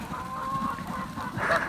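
Domestic ducks stirring on a homestead in the morning, several nearby quacks and honking calls over a soft outdoor background, no talking.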